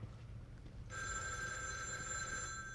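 A telephone in The Evil Within 2 starts ringing after a quiet moment, a steady bright electronic trill that holds continuously, moderately loud over faint low ambient hum.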